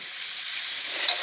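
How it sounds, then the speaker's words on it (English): Capers frying in a pan with anchovies and garlic give off a steady, close, bright sizzle that holds level for the whole short stretch with no talking. "And now I'll put in just the capers. And we'll let that cook just a few minutes."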